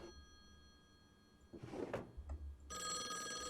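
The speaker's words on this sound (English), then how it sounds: "Fine, I'll answer the phone." An old-style telephone bell rings in the horror video game Call of the Elder Gods, a soft muffled bell at first, then a shuffling movement and a louder, brighter ring that carries to the end.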